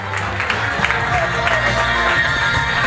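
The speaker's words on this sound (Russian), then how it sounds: "Давайте, встречайтесь бурными аплодисментами первого комика, Озот Шкрулаев." A lively crowd at a stand-up comedy show applauds and cheers to welcome the first comedian, loud sustained clapping mixed with whoops and shouts.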